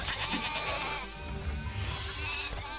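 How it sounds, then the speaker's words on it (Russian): Sheep in the video game Overlord bleat several times in a loud, close chorus, with game sounds beneath and no talk. "Это надо будет мне сейчас заново убивать этих вот овец"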